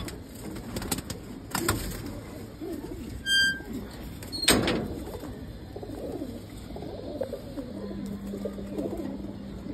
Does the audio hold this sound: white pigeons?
yes